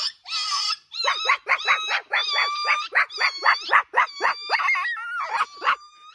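A dog howls and whines in a rapid run of high, quavering cries, loud and close, each call short and repeated with little pause.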